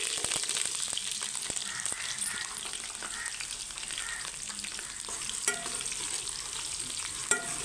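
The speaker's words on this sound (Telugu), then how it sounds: "గోల్డ్ కలర్ వచ్చేదాకా వేపుకుందాం." Onions frying in oil with mustard and fenugreek seeds and curry leaves, a steady close sizzle with occasional stirring scrapes and small pops.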